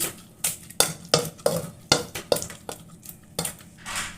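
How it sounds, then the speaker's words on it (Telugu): A spoon mashing boiled brinjal with salt in a vessel: a quick series of sharp metallic clinks and scrapes at an uneven rhythm, close and fairly clear, with no voice. "ఇప్పుడు వంకాయని 1 స్పూన్ సాల్ట్ వేసుకుని మెదుపుకోవాలి."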